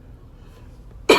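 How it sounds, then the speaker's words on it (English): A single short, sharp cough bursts out at the very end, close and loud after near-silence. "I got a little cough"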